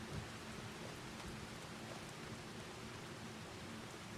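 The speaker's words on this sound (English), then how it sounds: "it's raining." Steady rain falls in the farming video game Farming Simulator 25, a soft, even hiss of drops that stays faint and unbroken throughout.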